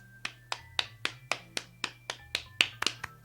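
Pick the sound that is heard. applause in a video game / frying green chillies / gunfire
applause in a video game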